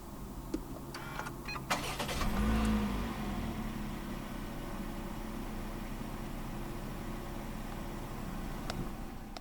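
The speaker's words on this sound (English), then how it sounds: "Put your foot on the brake and press the start button located right down here." A 2023 Perodua Alza 1.5 X starts by push button: a short starter whir with a few clicks, then the engine catches with a brief rev before settling into a low, steady idle heard from inside the cabin.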